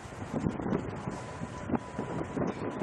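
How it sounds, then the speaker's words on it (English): Gusty wind buffets the microphone outdoors at a shooting session, a loud continuous rumbling roar with repeated sharper gust bursts and no voices. "I think we're gusting to like 35 miles an hour with an average of 20."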